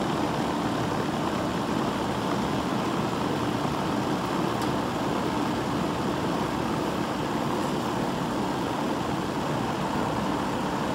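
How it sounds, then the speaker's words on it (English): An existing outdoor air conditioner runs with a steady, even, broadband whooshing whir. The noise stays at the same level throughout, with no voices and no breaks. "existing air conditioner most likely sounds like this."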